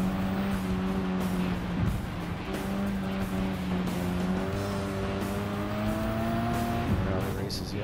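A Nissan GT-R races in Gran Turismo 7, its steady engine drone shifting pitch through gear changes, with brief tire squeal over a continuous, loud game soundtrack; a voice talks over part of it.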